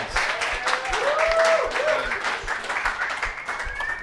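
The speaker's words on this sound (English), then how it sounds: "Give him a round of applause." Crowd applause for a new boys' varsity basketball head coach fills the space for a few seconds, dense and steady, with a few cheers rising above it.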